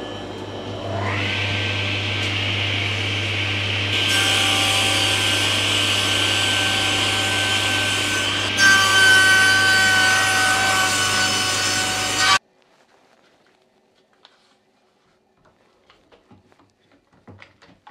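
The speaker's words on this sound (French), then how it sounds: "je vais finir à la scie japonaise" Steady rasping of a Japanese hand saw cutting through wood, continuous strokes close by for about twelve seconds, then it stops, leaving near silence with a few faint knocks.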